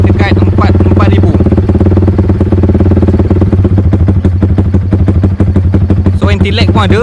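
Motorcycle engine held against launch control set to cut at 4000 RPM, a loud, steady buzzing drone with rapid stuttering pulses from the limiter, running close and continuous throughout.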